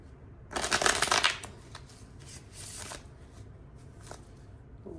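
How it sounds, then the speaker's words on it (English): A deck of tarot cards gets a loud, crisp riffle shuffle, then a few softer, shorter shuffling rustles close by. "let's shuffle."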